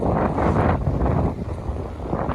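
Strong wind on the deep sea during a storm, heard from a fishing boat, buffeting the microphone in loud, gusty rumbling bursts with water noise underneath.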